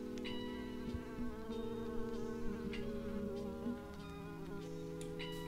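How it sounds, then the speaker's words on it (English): A Crimson Mosquito from the Alex's Mobs mod in Minecraft buzzes steadily up close, a continuous droning whine with wavering pitch that persists throughout, alone with no talking. "if the Crimson Mosquito sucks a warp fungus like this"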